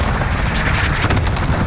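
A missile strike explosion in Modern Warfare: a loud, dense, rumbling blast that fills the whole short stretch with heavy low booming and crackling debris, no speech.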